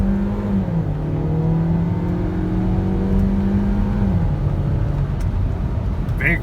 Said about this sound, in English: Okay, we're gonna do 0 to 60.